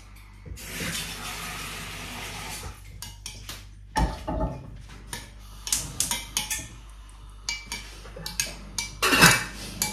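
Metal utensils clink and scrape against a dish while lunch is mixed, a run of irregular sharp taps and rattles with quiet gaps, fairly close and without talk.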